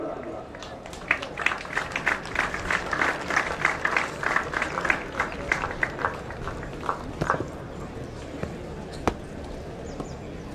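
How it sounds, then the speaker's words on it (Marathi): Applause ripples through the crowd at a police passing out parade, a run of crisp, fairly distant claps that swells and then thins out, mixed with faint voices and background murmur. "टाळ्या थांबल्या का?"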